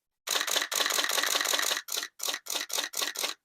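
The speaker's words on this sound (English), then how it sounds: "Listen to this shutter speed." A Nikon F5 film camera shutter fires in rapid bursts, first a fast continuous run of clicks, then five distinct separate shots, loud and close with silence around them.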